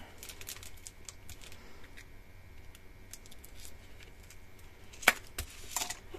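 Faux leather ribbon trim in its packaging being handled and opened, a run of soft crinkles and small taps with one sharp crackle near the end, close and quiet with no speech.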